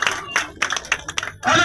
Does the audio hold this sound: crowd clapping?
yes